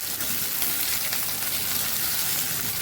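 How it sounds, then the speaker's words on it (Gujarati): Okra and potatoes fry in a small amount of oil in a pan for a Kathiyawadi bhinda bateta shaak, making a close, continuous crackling sizzle that holds steady throughout. "આવી રીતે ફેરવતા બધી સાઈડથી ભીંડાને સરસ આપણે ફ્રાય કરી લેવાના છે"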